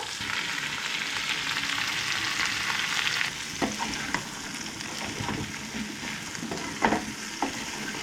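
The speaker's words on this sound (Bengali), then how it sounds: "এটা এখন আপাতত ধিমে আছে, ভাজা হওয়ার জন্য রেখে দেবো।" Vegetables with turmeric and salt fry gently on low heat in a pan, a continuous close sizzle broken by a few sharp stirring clinks and scrapes.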